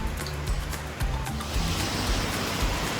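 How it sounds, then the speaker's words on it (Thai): Waterfall at the entrance to Akiyoshidai park in Japan, a steady broadband rush of falling water that holds evenly loud and continuous throughout, with low rumble underneath and no voices. "ตรงทางเข้านี่ก็จะเป็นน้ำตก สีฟ้าก็จะเห็นว่าสวยมากเลยนะครับ"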